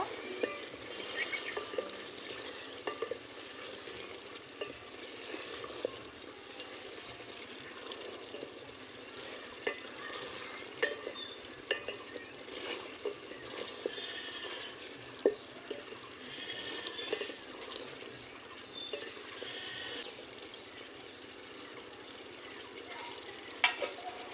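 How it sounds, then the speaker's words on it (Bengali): Mutton curry with thin gravy gets stirred in a pan, with a faint, low bubbling sizzle and occasional soft spoon clicks against the metal throughout. "নেড়ে নেব।"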